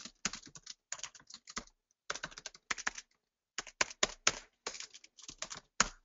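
Typing on a computer keyboard, close and quiet: short bursts of crisp key clicks separated by brief pauses, no voices.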